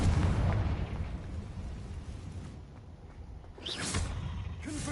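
Confringo spell explosions in Hogwarts Legacy, heavy booming blasts with a rumbling tail, a loud burst at the start and another sharp crack near the end over steady low-end battle noise.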